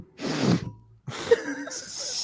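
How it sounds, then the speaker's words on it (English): A person sniffs sharply into a microphone during a sports-betting talk show, with two short, close, breathy bursts separated by a brief pause. "Did you just sniff your mic?"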